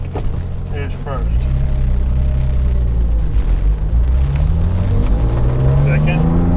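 A car engine pulling away in first gear after a shift kit installation, a loud low drone rising steadily in pitch as it accelerates, with a voice briefly speaking at the start.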